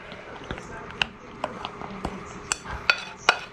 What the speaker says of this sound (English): Let's give it a stir.